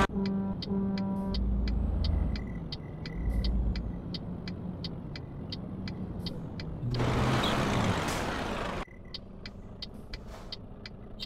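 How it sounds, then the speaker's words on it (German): A heavy truck in Euro Truck Simulator 2 sounds its horn in a few steady, deep blasts over an idling engine, followed by a loud burst of air-brake hiss and then quieter rumbling. "Hier haben wir mal einen LKW, der auch mal eine ordentliche Hupe hat."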